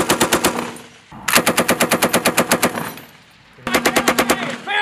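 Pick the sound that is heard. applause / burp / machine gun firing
machine gun firing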